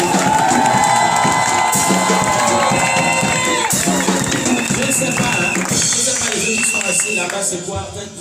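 A church congregation cheering and shouting in acclaim of the Lord, a loud mix of voices, whoops and scattered clapping, with high sustained cries rising above the crowd.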